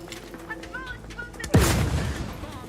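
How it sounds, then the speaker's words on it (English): A grenade goes off in The Outer Worlds 2, one sharp loud blast with a falling boom and rumbling tail, following quieter game sounds and faint tones. "That grenade only does 34 damage?"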